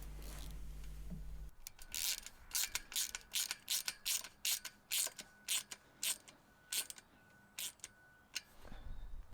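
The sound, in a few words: tightening 10mm nuts on bolts with a tool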